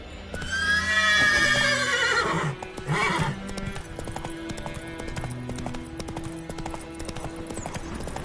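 Roach, the horse in The Witcher 3, gives a loud, rising whinny with a snort, while hooves gallop in a quick, steady clip-clop that continues beneath it.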